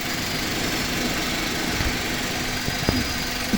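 A car engine runs steadily after a battery jump start, a continuous even idle hum with a faint vibration and no speech over it.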